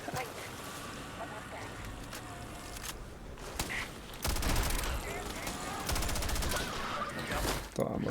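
AK rifle fire in Starfield, bursts of gunshots crackling over a busy game soundscape, growing louder and denser in the second half with rapid repeated shots.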